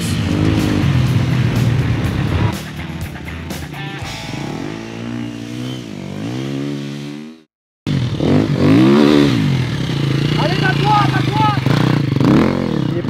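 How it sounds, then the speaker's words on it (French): Motocross motorcycle lapping on a sand track, its engine loud and close, revving and shifting pitch up and down with a brief cut near the middle before roaring back. "C'est parti pour mes premiers tours de roue sur cette surface hostile. La moto va où elle veut"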